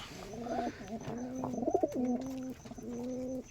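Giribaz pigeons coo close by in a quiet room, a few soft, repeated throaty calls with short pauses between them, and no talking.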